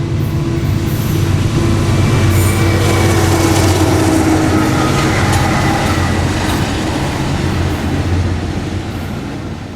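A BNSF freight train rolls past at close range, a loud, sustained rumble with rhythmic wheel clatter and a droning engine tone that eases slightly as it goes by.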